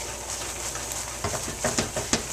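A thick, fluffy English toffee mixture is stirred and scraped in a pot, giving soft scraping strokes over a steady bubbling hiss, with a few sharper clinks near the end.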